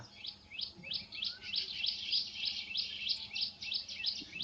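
Baya weaver birds calling near a small palm tree beside a canal, a rapid series of repeated high chirps in quick bursts, fairly close and steady over faint background noise.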